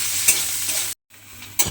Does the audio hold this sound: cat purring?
no